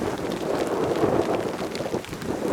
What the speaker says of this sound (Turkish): Yağmur da çok hızlı başladı